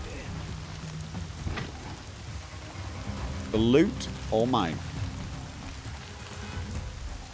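Steady heavy rain in the video game Horizon Zero Dawn, a constant hiss of rainfall while a voice briefly speaks over it.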